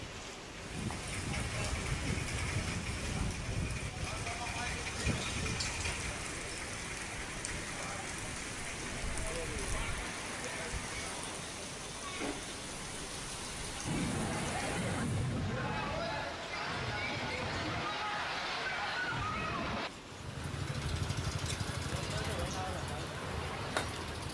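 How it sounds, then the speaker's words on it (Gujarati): Heavy rain pours steadily across a rural stretch of Gujarat during an unseasonal summer storm, a dense continuous hiss with occasional low rumbles and background voices murmuring throughout. "વીજળીના કડાકા સાથે આકાશી આફત વરસી છે."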